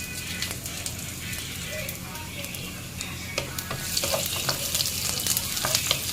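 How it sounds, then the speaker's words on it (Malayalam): Onion, curry leaves and garlic sautéing in a pan for a Kerala banana blossom thoran, a steady close sizzle with repeated spatula scrapes and taps growing louder toward the end, no talk. "സവാളയും വേപ്പിലയും ഉള്ളിയൊക്കെ ഉണ്ടല്ലോ, വെളുത്തുള്ളി എല്ലാം കൂടിയിട്ട് ഒന്ന് വഴറ്റിയെടുക്കണം കേട്ടോ."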